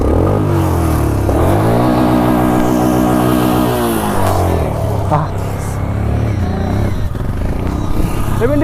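A motorcycle engine revs hard while crossing water on a ride to Ladakh, with loud rising and falling engine tones and clattering close by, and voices faintly underneath.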